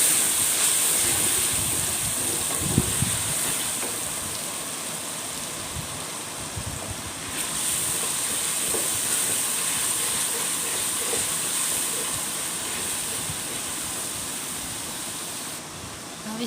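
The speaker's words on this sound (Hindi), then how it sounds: "अब इसको अच्छी तरह से भून लेंगे।" Garlic and ginger paste frying in a pan while chana pulao is cooked, a steady hiss and sizzle with a few stirring knocks.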